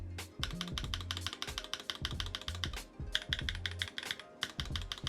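Rapid, close typing on a Bakeneko 65 keyboard fitted with PBT keycaps, a dense run of crisp keystrokes with a short pause in the middle and no voice.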